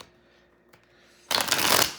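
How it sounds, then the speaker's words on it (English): Oracle cards are shuffled in a brief, close, crisp riffle burst that follows a quiet pause with one soft tap. "I'm gonna shuffle these one more time, and then get an oracle card out for you to start it off."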